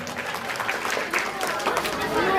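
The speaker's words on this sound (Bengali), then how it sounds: "একবার হাততালি দিই এবং তাকে আমরা আন্তরিকভাবে স্বাগত জানাই" An audience claps in welcome at a school golden jubilee ceremony. The applause is dense and steady for the whole stretch, mixed with crowd chatter.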